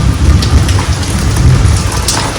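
Heavy downpour with thunder, loud and continuous, a dense roar of rain with deep low rumbling underneath and no voices.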